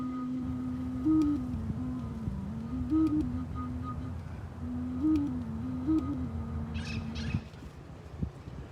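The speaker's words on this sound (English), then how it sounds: "And this is another piece of gourd that I glued on." A handmade five-note gourd flute with glued-on gourd pieces plays a soft, breathy wavering melody, rising and falling around a low pitch, steady for several seconds before stopping, with faint background noise.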